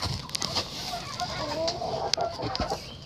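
Chickens and a rooster cluck in a poultry coop, a few short, scattered clucks near and fairly soft, broken by brief sharp taps, with a quiet voice in the background.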